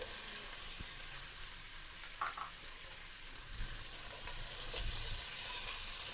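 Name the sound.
chicken masala and onions sizzling while being fried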